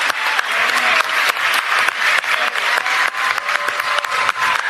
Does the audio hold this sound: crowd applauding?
yes